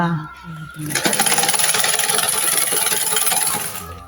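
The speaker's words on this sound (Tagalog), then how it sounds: "isasaksak mo lang siya sa kuryente at pwede na siyang matahian" An old sewing machine driven by an electric motor whirs steadily with a fast rhythmic mechanical clatter after a short start, running continuously and close by.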